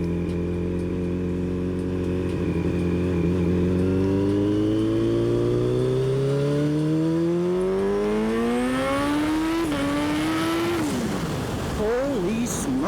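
Engine of a vehicle on a test ride after spark plug maintenance, loud and close, with a steady rising pitch as it accelerates through a long pull, a brief dip at a gear change and then another climb.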